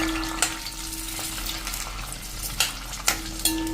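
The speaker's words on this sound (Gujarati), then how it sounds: "એમાં આપણે આ કાંદાને થોડા એવા હલકા એવા સાંત તળવાના છે." Whole onions sautéing in hot oil over a medium flame, a continuous soft sizzle and crackle with a few sharper clinks of a spoon against the pan, close and steady with no talk.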